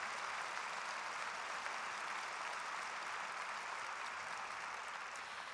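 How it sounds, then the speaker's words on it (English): Steady applause fills a memorial ceremony hall honouring an Indigenous judge, a dense, even wash of clapping from a large audience that holds at constant loudness throughout with no voices over it. "So please give them a big round of applause for offering this space for us."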